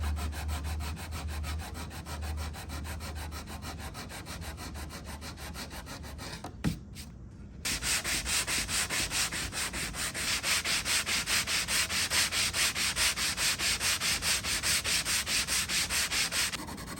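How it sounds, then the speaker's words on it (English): Wood veneer edges being sanded by hand, a steady rubbing scrape of abrasive on wood that goes on continuously, a short pause near the middle, then resumes slightly louder with rhythmic back-and-forth strokes. "I like to hand sand on the edges so that I just don't blow through any of the veneer."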